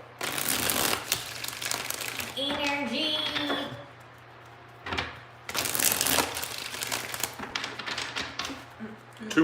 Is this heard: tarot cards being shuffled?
yes